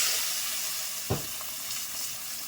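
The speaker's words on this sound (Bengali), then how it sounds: "পাঁচ ফোড়ন তেলের মধ্যে দিয়ে দেবো" Panch phoron whole spices with dry red chili and bay leaf frying in hot oil, a steady close sizzle with one brief sharp crackle and spoon scrape midway, no voices.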